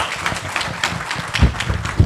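An audience at a clinical rheumatology conference claps for an award winner, with brief bursts of handclaps rising in intensity toward the end.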